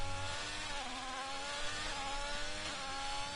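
Racing car engines in a Formula-style video game at a Brazil race, a steady dense high-pitched engine whine with shifting tones running continuously and fairly loud throughout.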